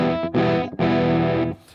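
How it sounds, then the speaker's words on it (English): An electric guitar played through an early-1980s Ibanez Tube Screamer distortion pedal rings out in two loud, sustained, thick distorted chords, with a brief choppy gap between them and a quick fade at the end. "It's a classic distortion."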